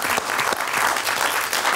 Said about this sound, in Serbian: Molim vas, aplauz što nisu izašli